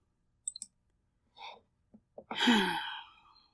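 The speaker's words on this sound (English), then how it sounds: "Now I gotta click the link" A computer mouse gives a quick pair of sharp clicks, then a few breathy, gasp-like vocal sounds follow with short gaps between them.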